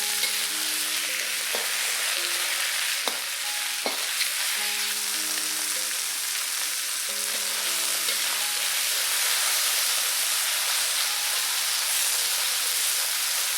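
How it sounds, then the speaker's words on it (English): Pork belly slices frying in oil in a pan, a loud continuous sizzle and crackle holding steady throughout, with faint tonal hums underneath and no talking. "Fry this for about 2 minutes till it turns brown"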